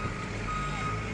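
A truck reverses, its backup alarm sounding a steady high beep over a low engine rumble, close and clear throughout.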